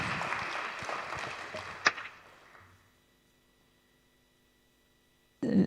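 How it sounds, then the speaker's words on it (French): A conference audience claps, the applause loud at first, then fading away over about three seconds into near silence, before a sudden new sound at the very end. "je pense qu'on peut l'applaudir"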